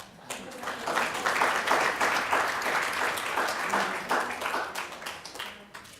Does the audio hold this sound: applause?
yes